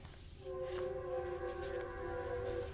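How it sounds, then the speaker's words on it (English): A train passes in the background near a room where a Chessnut Move chessboard is being unboxed. It makes a steady, sustained droning tone, like a distant horn or wheel whine, over low rumbling noise. The sound holds at moderate loudness for several seconds. "I know there's a train in the background."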